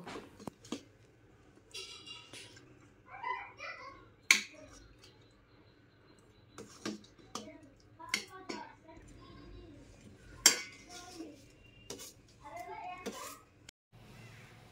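Cooked sarputi fish being served at home, with dishes and utensils clinking in scattered sharp taps and scrapes at close range, some louder clacks among softer handling noises and brief faint voices in the background.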